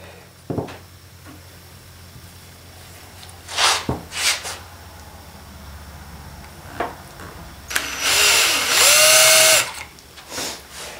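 A power drill bores through steel while making a clamp mount for a GoPro camera, with short bursts of handling and tool noise before a loud, sustained whining run near the end.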